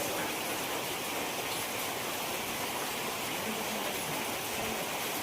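Steady rain falls in the mountains as a dense, even hiss without a break, close and constant, with no voices over it.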